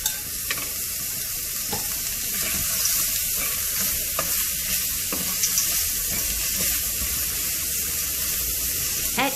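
Vegetables and cashew nuts fry in a pan with a continuous loud hissing sizzle, punctuated by occasional stirring scrapes, with no talking.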